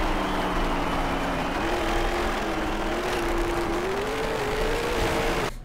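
A dirt track race car's engine drones close and continuous in the Dirt Track Racing game, its pitch slowly climbing and wavering as it revs, then dropping off sharply at the end.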